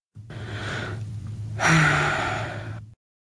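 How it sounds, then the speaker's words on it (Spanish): A synthetic breathing sound from a Loquendo text-to-speech voice, two close breaths: a softer inhale followed by a stronger, noisier exhale that ends abruptly, alone with no talk. "Respiración 1."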